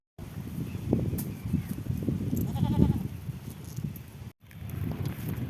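Goats bleat outdoors in repeated, overlapping calls, fairly close and loud over steady wind, with a brief break partway through.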